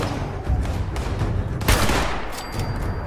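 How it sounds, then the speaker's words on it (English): Bursts of gunfire from the video game Fallout 76, rapid cracks of shooting layered over game ambience, with a sharper, louder volley near the middle and fainter shots around it; no talk. "I shot him in the throat."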